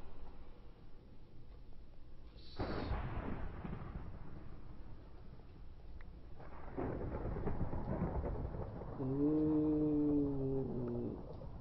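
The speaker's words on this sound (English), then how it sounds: "There's a storm going outside." Thunder in a Minecraft thunderstorm: a sharp crack, then a long loud rolling rumble that swells again later, with a brief tonal call near the end. No one speaks.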